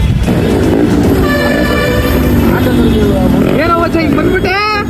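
A loud, steady rumble of a train fills Yeshwantpur railway station in Bengaluru, with rising whistle-like tones and a horn near the end, and voices talking underneath.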